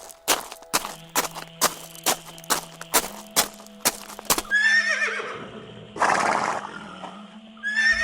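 Well-fed horses near a Kyrgyz mountain settlement, a run of sharp hoof clops or knocks giving way to a loud whinny, then a second neigh near the end.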